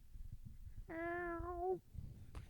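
A pet cat gives one drawn-out meow right beside the microphone, clear and close, rising over faint room rustle and fading into a soft thump.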